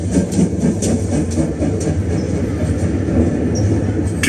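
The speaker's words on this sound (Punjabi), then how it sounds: "ਇੱਕ 8 ਡਾਊਨ ਪੈਸੇਂਜਰ ਟ੍ਰੇਨ ਸ਼ਾਹਜਹਾਨਪੁਰ ਦੇ ਛੋਟੇ ਸਟੇਸ਼ਨ ਤੋਂ ਰਵਾਨਾ ਹੋਈ।" An 8 Down passenger train pulls out of the small Shahjahanpur station, a loud, close, continuous rumble with rhythmic wheel clatter.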